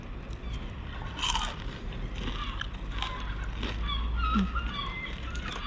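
Crisp crunching bites into fried battered fish and chips outdoors at Whitby, England, a few sharp crackly bites and chewing sounds over a steady low background rumble.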